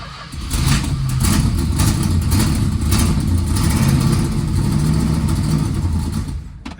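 A 1970 car with triple Holley carburetors and a bad exhaust leak runs at a loud, close idle, its lumpy low rumble steady and uneven for several seconds before cutting off.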